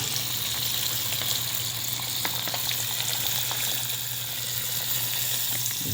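Milkfish (bangus) cooking in a pan gives a steady, even sizzle of hot oil, fairly faint and continuous with no voices.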